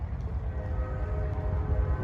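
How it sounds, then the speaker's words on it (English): Passenger train 841 bound for Poughkeepsie rumbles past a park on the Hudson line, a steady low roll of wheels and cars that holds loud and even for the whole stretch, with no voices. "About to pass by here at the park is train 841 to Poughkeepsie."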